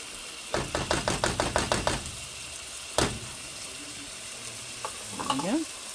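Diced tomatoes and salsa hit a pan of frying onions and peppers, setting off a loud burst of rhythmic sizzling and stirring scrapes, then a single clank and quieter bubbling with a faint utensil squeak at the end.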